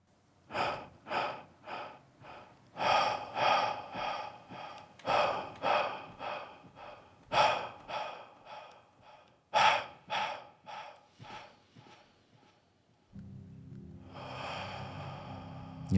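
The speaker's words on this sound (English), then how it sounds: "Breathe." Slow, deep breaths in a calm setting, each inhale and exhale a soft airy swell in a steady rhythm, close and alone with no talk, ending in a low steady hum.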